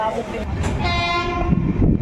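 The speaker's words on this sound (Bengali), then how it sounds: "এই মুহূর্তে ট্রেন বোলপুর শান্তিনিকেতন থেকে ছেড়ে দিল" An Amrit Bharat Express train horn blares for a moment over the heavy low rumble and clatter of the train pulling out of Bolpur Shantiniketan station close by.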